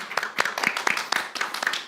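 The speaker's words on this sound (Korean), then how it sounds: "박수로 환영하겠습니다." A small studio audience claps to welcome a guest on a church radio talk show, a brief, uneven patter of hand claps running steadily for a couple of seconds at moderate loudness.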